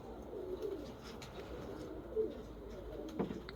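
Pigeons coo softly in a loft, low murmuring calls repeating a few times over a quiet background, with a couple of brief sharper knocks near the end.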